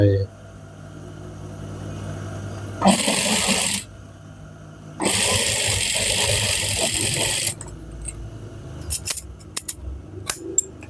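A sewing machine stitches over a fabric edge in two loud, steady bursts separated by a pause, with someone talking between and around them and small clicks at the end.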